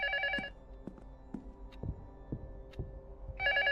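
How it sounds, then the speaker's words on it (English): Telephone ringing in the horror game Luto, two bursts of a harmonic bell-like ring at the start and end separated by a quiet gap with soft, sparse thuds and clicks. "The phone keeps ringing."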